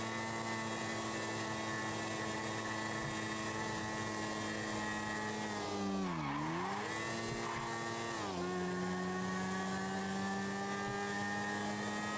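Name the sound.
motorbike riding and skidding in a video game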